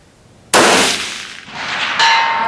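A rifle bullet striking a steel gong target at a shooting range: one sharp, loud metallic clang followed by a long bright ringing decay, with a second faint ring partway through, no talking.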